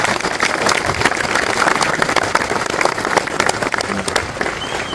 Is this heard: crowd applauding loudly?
yes